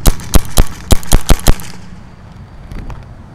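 HK Army SABR semi-automatic paintball marker fired with 2-star paintballs from a gravity feed hopper: seven sharp, close pops in a quick uneven string, then quiet with a couple of faint later taps.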